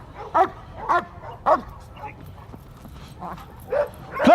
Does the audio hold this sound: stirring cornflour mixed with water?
no